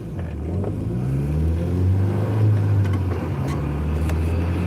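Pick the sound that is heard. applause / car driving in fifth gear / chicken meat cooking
car driving in fifth gear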